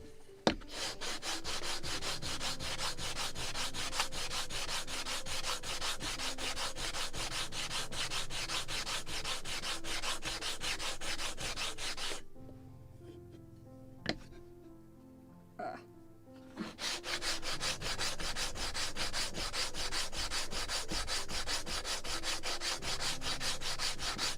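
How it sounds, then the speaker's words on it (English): Wood is sanded on the mast of a Model Shipways 1776 gunboat Philadelphia kit, a rapid rhythmic rasp of close back-and-forth strokes. It pauses for a few seconds of quiet handling taps, then resumes. "A little more sanding."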